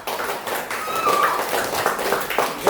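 A classroom group of teachers and students claps together for one team, with a steady burst of dense hand-clapping across the whole stretch and some high whistly squeaks rising above it.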